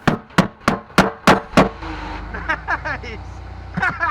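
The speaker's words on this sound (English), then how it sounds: "you just have to go in the back where the gas tank is and beat on it a little bit to get the fuel pump flowing" Six loud, evenly spaced metallic bangs from someone beating on a pickup truck's gas tank to start the fuel pump, followed by an engine turning over and a voice speaking.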